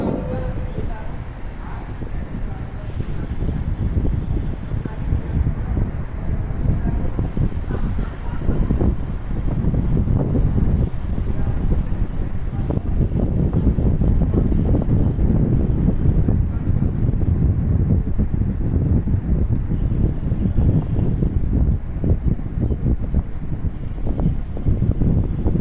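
Strong wind roars steadily across the microphone of a cyclist out on a group bike ride, a heavy continuous low rumble that buffets without a break for the whole stretch.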